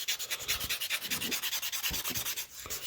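Fine-grit sandpaper rubs by hand over a DIY couch sleeve in quick, even back-and-forth strokes, a close rasping swish repeating about four times a second with no voices.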